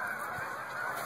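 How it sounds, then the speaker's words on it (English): Geese honking outdoors near a small pond in scenic surroundings, a steady wash of overlapping calls from a flock that sound fairly close and loud throughout, with no talking. "The scenery is great until the geese come in."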